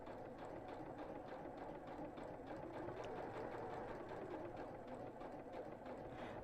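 Sewing machine stitching a precise curved seam, running as a continuous, even, fairly quiet hum throughout.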